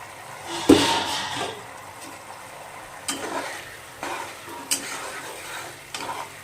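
Katla fish curry cooking in a pan, a soft sizzle running underneath while a utensil stirs and scrapes, giving a few sharp clinks and scrapes spaced through the stretch.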